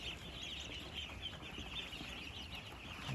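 Day-old laying ducklings in a brooder holding about 300 birds chirp and peep continuously as a busy flock, a dense bright chatter at moderate level without talk.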